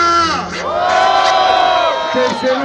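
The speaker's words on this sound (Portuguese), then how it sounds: "Barulho para as rimas do PH!" Loud crowd at a street rap battle in Brazil cheering, whooping and shouting in approval after a rhyme, a dense sustained roar close by with individual yells rising above it.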